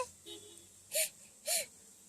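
A small child sobs and whimpers for its mother in short broken bursts, with a voice speaking softly nearby between the cries.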